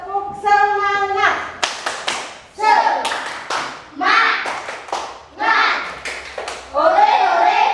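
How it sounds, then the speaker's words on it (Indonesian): Classroom of children performing a rhythmic group clapping chant, sharp claps in quick patterned bursts alternating with loud shouted chanting, close and lively. "Sekarang tepuk semangat."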